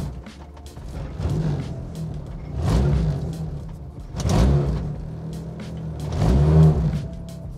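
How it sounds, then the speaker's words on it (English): A car fitted with a troublesome B-series manual transmission missing fourth gear drives off, its engine revving up in several rising surges with low rumbling between gear changes, close and fairly loud. "I'm taking the car back to the house."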